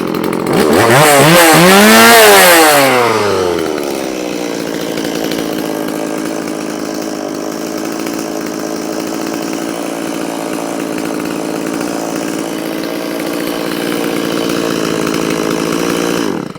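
Gasoline chainsaw running on old, stale fuel mix, revving loudly at first then dropping to a steady, weak low idle that keeps running without stalling, close and continuous with no talk.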